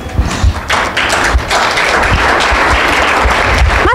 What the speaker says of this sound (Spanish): el aplauso es para el Señor